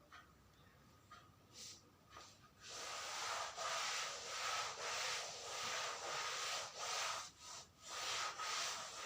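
A classroom board is wiped clean by hand, producing loud, rhythmic back-and-forth rubbing swishes, close and steady for several seconds after a few lighter strokes, with no talking.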